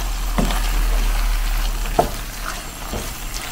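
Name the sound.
stirring bell pepper frying in a pan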